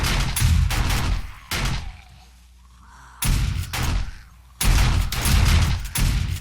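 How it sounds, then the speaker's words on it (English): Loud bursts of rapid gunfire in the zombie survival game 7 Days to Die strike the ground, three long volleys broken by a short lull of low ambient rumble. "Shooting into the ground over here."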